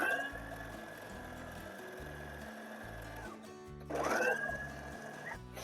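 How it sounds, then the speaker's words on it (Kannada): A sewing machine runs a half-inch seam on a long gown with a steady, close mechanical whir. It stops briefly, then starts again at the same even pace. "ಇದನ್ನು ಅಷ್ಟೇ 1/2 ಇಂಚಿಗೆ ಸ್ಟಿಚ್ ಮಾಡ್ಕೊತಿದ್ದೀನಿ"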